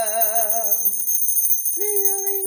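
An electronic bell chime rings in clear sustained tones, first with a wavering warble and then a steady held note after a short gap, loud and alone.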